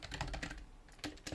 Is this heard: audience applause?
no